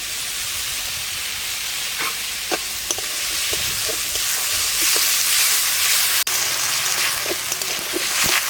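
Chopped tomato frying in a pan for a fish curry, with a bright steady hiss and sizzle up close, scattered spatula taps and stirring, and one sharp click partway through.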